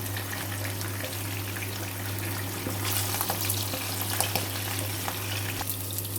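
Magur fish pieces fry lightly in hot oil, giving a steady close sizzle with scattered crackles and pops over a constant low hum, without any talking.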